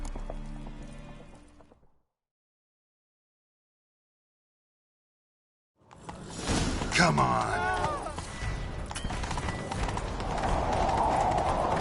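Hooves of a galloping horse in the video game Witcher 3 pound in a fast rhythm after a short silence, close and loud, with a shouted voice over them and a neigh mixed in.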